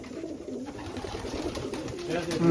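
Pigeons coo in a racing pigeon loft, with soft, low, throaty murmurs overlapping in a continuous close chorus while people talk nearby.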